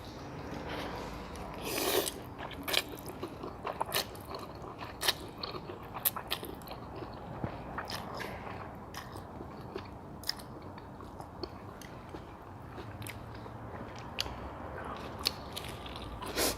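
Close, steady chewing and crunching while eating Thai pork noodle soup with thin rice noodles, pork balls, fried garlic and crispy pork rinds, with repeated sharp crunchy bites over a continuous background.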